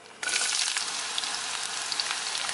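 Chopped shallots hit hot oil in a pan after mustard seeds have popped, and a sudden loud sizzle breaks out and holds as a steady, bright frying hiss, close and alone, for a Kerala side dish.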